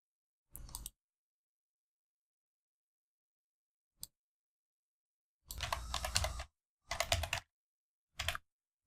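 Fingers type on a computer keyboard: a short burst of clicking, one lone tap, then three quick runs of keystrokes close by, with silence between and no talking.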